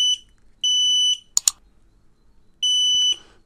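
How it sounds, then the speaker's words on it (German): An X-Sense XS01-WT WiFi smoke detector sounds its alarm, loud piercing high beeps in long pulses separated by pauses, with a couple of short clicks between, close and clear with no talk. "Rauchalarm aus."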